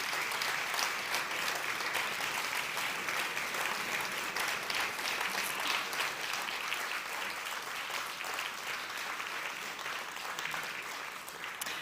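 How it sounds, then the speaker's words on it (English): Steady, dense applause from an audience at the Moldova Innovation Awards, continuous clapping heard at moderate distance throughout with no talk over it. "give them a round of applause, because they are the future of this country"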